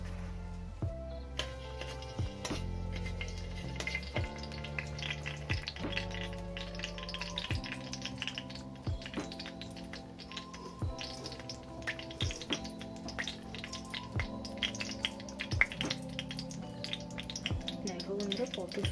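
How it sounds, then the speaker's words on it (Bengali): Sugar bubbles and sizzles in hot oil in a pan while a Bengali potato and cauliflower curry is being cooked. The crackle is faint and steady throughout, under gentle background music. "দেখো বন্ধুরা কত সুন্দরভাবে চিনিটা ফুটে উঠতে শুরু করেছে।"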